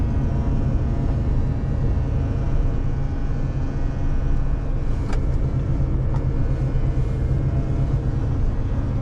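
Steady loud engine and road drone heard from inside a moving Renault truck, a continuous low rumble with a strange intermittent noise, faint brief clicks standing out around the middle.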